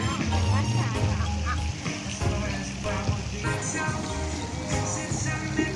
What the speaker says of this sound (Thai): มีเป็ดด้วย